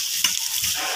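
Chicken liver frying in a pan, a steady bright sizzle with a quick scrape of stirring, close and alone.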